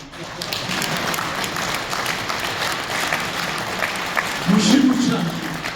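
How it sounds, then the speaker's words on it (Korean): A lecture audience claps together in sustained applause, a dense rolling patter that swells slightly toward the end. "여러분들은 지금 박수 안 쳐도 되나?"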